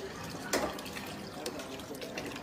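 A splash of brown alcohol poured into a drink, a short bright liquid gush near the start followed by faint trickles against a quiet room background.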